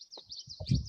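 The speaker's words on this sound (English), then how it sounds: "the little roosters, they're gonna have this tiny little chirp" Young roosters give tiny, high, thin chirps, a few short peeps close by with faint rustling beneath.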